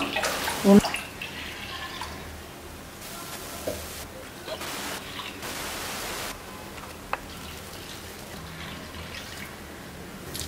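Water poured into a pan while making Tirunelveli halwa, a soft continuous splashing rush with a few drips, moderately close, after a brief clink at the start.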